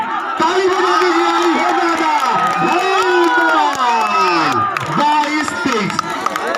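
Crowd at a village kabaddi match between Tetarpur and Gangapur cheering and shouting loudly and continuously, with whoops and scattered clapping mixed into a dense roar that swells and dips.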